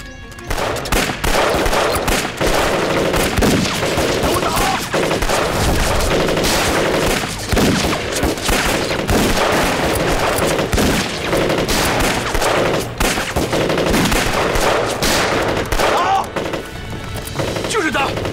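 Heavy, sustained gunfire with rapid machine-gun bursts and rifle shots, loud and dense throughout, sounding like a battle near a village, with no voices rising above it.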